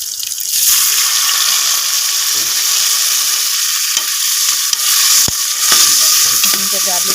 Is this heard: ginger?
yes